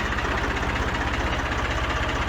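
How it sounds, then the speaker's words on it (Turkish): A Fordson Dexta tractor engine idling close by, a steady low, even rhythmic chug that stays constant and loud throughout with no speech. "Gördüğünüz üzere arkadaşlar birazcık rolantide çalışsın."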